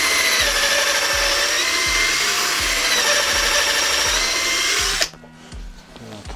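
An old cordless drill-driver bores steadily with a high whirring motor over a rhythmic thumping beat for about five seconds, then stops abruptly, leaving quiet handling clicks.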